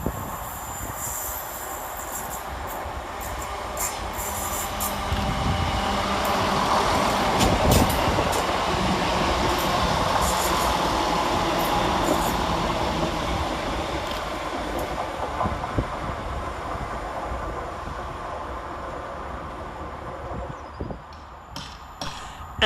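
Two coupled West Midlands Railway Class 175 diesel units on a Shrewsbury to Birmingham New Street service come slowly around a curve through Smethwick Rolfe Street station. The loud, steady rumble carries wheel squeal and rail clatter over more than twenty seconds.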